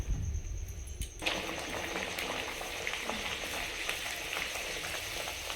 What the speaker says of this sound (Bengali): কচুরি ভেজে নেব